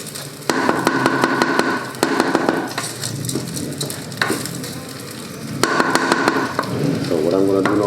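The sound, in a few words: basmati rice frying in a hot pot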